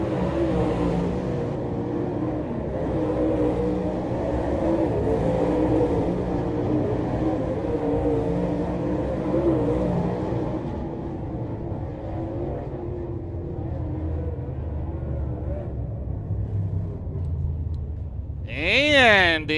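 Late model race cars roar around a dirt oval, a steady rumbling engine drone under continuous commentary from an announcer, with a brief whooshing sweep near the end.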